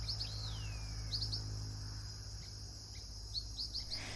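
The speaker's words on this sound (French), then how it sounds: "Je ne sais pas quel oiseau fait ce bruit" Bright bird song with quick high chirps and a sweeping whistle, repeated in short bursts over a steady low hum, fairly faint and outdoors.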